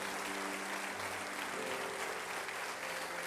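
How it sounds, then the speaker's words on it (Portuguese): Church congregation applauding loudly to the Lord during an evening service led by Pastor Josué Gonçalves, a dense continuous wash of clapping across the whole stretch with a faint sustained musical tone beneath. "aplaudam bem forte ao Senhor nessa noite"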